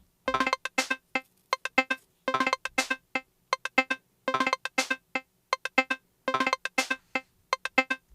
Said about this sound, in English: if you have 10 layers of short sounds,